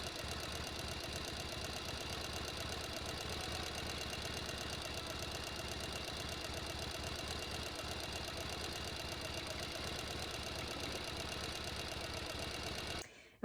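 A sewing machine runs steadily, stitching up the sides and bottom of a fabric gift bag body, with a continuous mechanical whir and rapid rattling close by that stops abruptly near the end.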